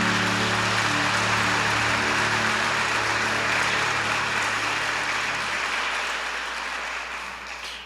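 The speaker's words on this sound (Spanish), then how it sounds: "Démosle fuerte ese aplauso a Él" A church congregation applauding in praise, a dense, loud sustained roar of clapping over a low music hum, slowly fading toward the end.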